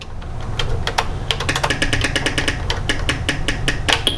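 Rapid, clattering keypresses on a Tandy Color Computer 3 keyboard, arrow keys and spacebar tapped while playing a game, close and crisp with irregular bursts over a low hum.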